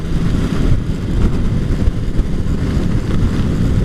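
Strong, steady wind roar buffeting the microphone while riding a motorcycle in a long bike caravan, a continuous low rumble that persists without a break.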